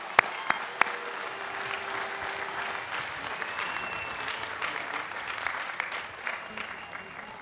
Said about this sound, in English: Please join me in a round of applause for Joe Wong.